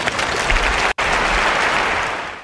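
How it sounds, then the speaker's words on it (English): Audience applause after a closing talk, a dense burst of clapping with a split-second gap near the start, then steady loud clapping that tapers slightly at the end. "I don't know that the applause was necessary from you, Matt"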